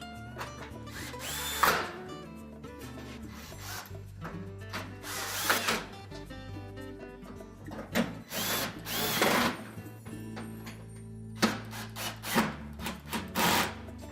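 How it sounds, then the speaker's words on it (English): Power drill driving retaining screws into the panel of a Whirlpool range during a blower assembly replacement, several short whirring bursts close by, each rising then stopping, separated by quiet pauses and light handling noises. "And then reinstall the retaining screws."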